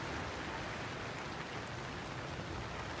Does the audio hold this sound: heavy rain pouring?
yes